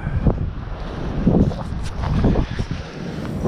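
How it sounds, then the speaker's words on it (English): Wind gusting outdoors on a morning at a camp, a low rumbling buffet on the microphone with some rustling, fairly loud and close, no talk. "I can hear that wind."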